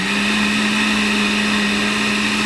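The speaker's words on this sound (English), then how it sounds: "In the blender." A blender whirs loudly and steadily at close range, mixing a coffee drink made with local island coffee, with a continuous motor hum and no pauses or talk.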